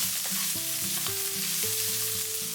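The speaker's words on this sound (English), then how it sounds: "When it's hot, put the pieces of pork belly. Spread them out." Pork belly pieces sizzle and fry in hot vegetable oil in a pan over high heat, a steady close crackle that runs without a break, with no talking.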